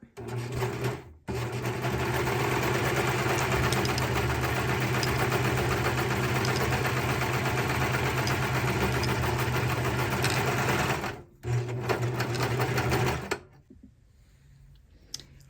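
A serger sewing machine finishes a fabric edge as the fabric runs right next to the blade. A loud, steady, rapid mechanical whirr runs for about ten seconds, breaks off briefly, resumes and then stops, leaving quiet room sound.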